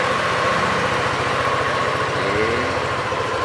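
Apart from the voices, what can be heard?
motorcycle engine idling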